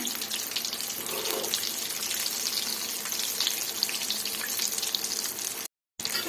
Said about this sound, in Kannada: ಈ ಥರ ಫ್ರೈ ಮಾಡಿಕೊಂಡ್ರೆ ಉಂಡೆ ರೆಡಿ ಆಗುತ್ತೆ